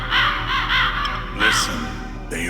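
Ravens caw in the video game Metal Gear Solid, several close, loud, harsh calls in quick succession over a steady low background hum.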